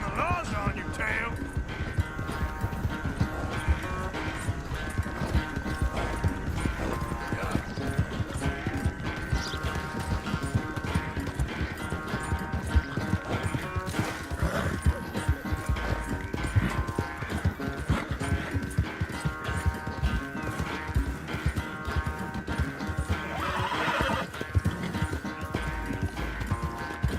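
Hoofbeats of horses racing in Red Dead Redemption 2 clatter steadily alongside a dense game score, with occasional whinnies and a voice speaking over the action.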